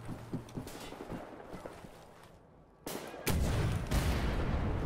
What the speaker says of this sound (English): We're gonna go ahead and rocket launch this turret